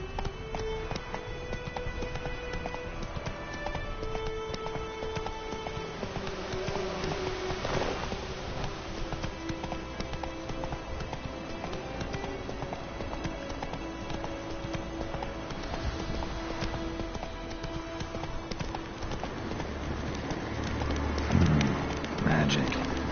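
Geralt's horse Roach gallops in The Witcher 3, a steady rapid clip-clop of hooves running under game music with a light patter like rain, continuous and moderately loud throughout.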